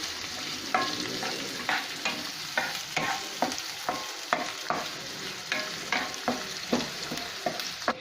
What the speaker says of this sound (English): So now after stirring goes the green chilies and then we should add onions and then again stir it for some time.